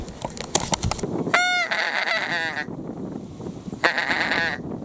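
A large flock of geese honking repeatedly during a November goose hunt in Germany, harsh overlapping calls in bursts at moderate distance, with a brief pause before another wave of honks.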